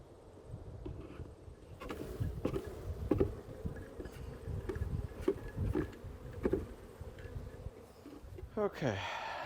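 Honey bees hum steadily around a nuc hive in late summer, a continuous close buzz with scattered louder passes of individual bees, under quiet talk.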